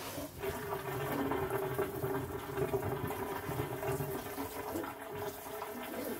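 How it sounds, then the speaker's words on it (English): Hot water runs from a tap over potatoes being rinsed, a steady splashing rush that stays constant and moderately quiet throughout. "I am just going to rinse these in hot water for a second"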